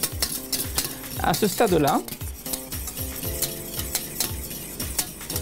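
Whisk or spoon scraping steadily around a pan of lemon cream with egg over the heat, a rhythmic metallic stirring with light sizzle, while a voice speaks briefly.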